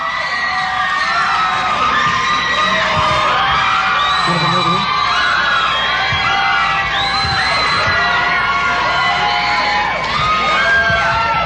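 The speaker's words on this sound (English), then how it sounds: "the crowd goes wild" A crowd at a Tori Amos radio event cheers wildly, with loud, continuous high-pitched shrieks, whoops and yells layered over one another for the whole stretch.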